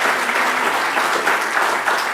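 A university audience applauds the Vice-Chancellor at a professorial inauguration ceremony, giving dense, steady clapping that stays loud and even from start to finish.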